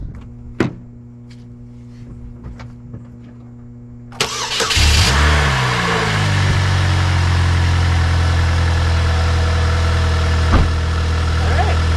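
An old scrap car with a rat-fouled engine bay cranks and catches, then settles into a steady, loud idle close by, with a few light clicks and taps before the start.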